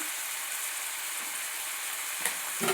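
Onions frying in a pan for an egg curry, a steady soft sizzle with a couple of clinks and scrapes from stirring near the end, close and moderately quiet.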